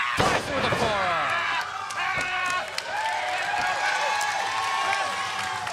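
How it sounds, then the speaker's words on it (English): Crowd at a wrestling show at the Nashville Fairgrounds roaring and cheering steadily throughout, with slams and a commentator talking over the noise. "This crowd is coming alive at the Nashville Fairgrounds for the Briscoes."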